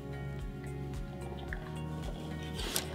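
Sterile water is poured into a container during tracheostomy care, a quiet, steady liquid trickle with soft drips and a low background hum.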